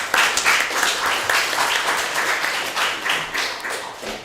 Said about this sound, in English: let us give a big applause for Brother Carlos.